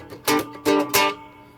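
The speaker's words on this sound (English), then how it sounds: "here is the sound of the Dorian mode." A few plucked notes on a 3-string cigar box guitar, three bright twangy attacks in quick succession with ringing sustain fading out, played close and alone.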